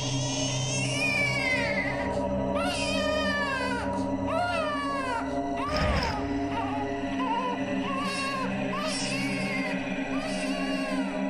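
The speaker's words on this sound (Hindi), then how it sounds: "अंदर से बच्चे की आवाज भी आ रही रोने की" A baby crying inside a locked house, rising wails repeated in bursts across the clip over a steady background hum, with a continuous dramatic score underneath.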